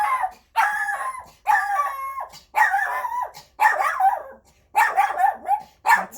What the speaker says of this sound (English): Probably barking at somebody delivering something.